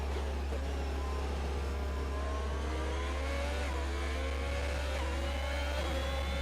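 Formula 1 cars racing in F1 2021 on the Circuit of the Americas, a McLaren and an Alfa Romeo side by side, engines holding a steady high whine with rising gear tones, continuous and moderately loud with no talk.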